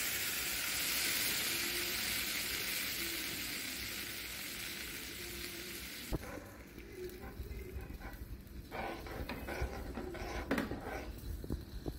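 Semolina baby food cooks in a pan with a soft, steady sizzle for several seconds, then quieter bubbling with scattered stirring scrapes and clicks; no talking.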